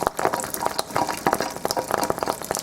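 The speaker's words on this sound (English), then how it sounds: "Do you hear that popping?" Kangen hydrogen water over a lighter flame gives off a dense, steady run of small sharp pops and crackles, close and fairly loud throughout.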